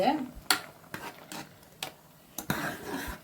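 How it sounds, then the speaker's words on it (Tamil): A pot of avarakkai (broad bean) sambar bubbles and sizzles softly while a utensil taps and stirs in sharp, irregular clicks, close by. A voice is briefly heard at the start. "இது பாருங்கள், கொதிக்குதுங்க."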